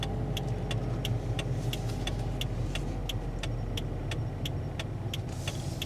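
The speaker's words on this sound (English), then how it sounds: "Give it throttle, off the clutch rest of the way. And we are rolling." A manual-transmission car pulls away from a stop at a green light, the engine a low steady hum with faint regular ticking inside the cabin and no talking.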